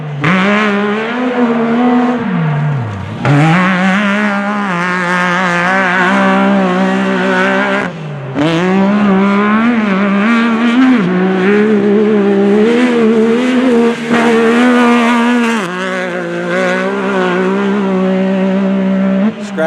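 A Yamaha YXZ race side-by-side laps the dirt track at Joe's Speedway, its engine screaming loud and close, pitch dipping and climbing through corners and shifts in a continuous, hard-revving drone.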